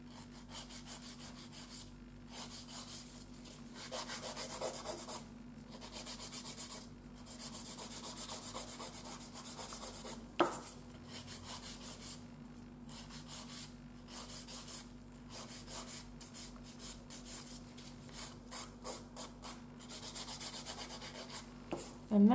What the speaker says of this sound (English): And I'm going to start filing. So first of all, I'm going to start with the sides of the nail.